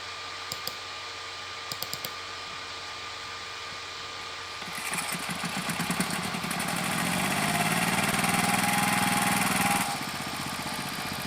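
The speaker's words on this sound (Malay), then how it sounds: "Ini pun traktor juga" A two-wheel agricultural tractor engine starts up partway through and runs steadily nearby, a loud continuous mechanical drone building to full throttle before dropping slightly near the end; quiet clicks precede it.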